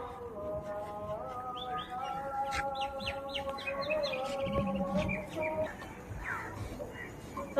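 Birds in the eco park aviary chirp and tweet in quick, overlapping bursts that carry on throughout, moderately close, with faint human voices in the background.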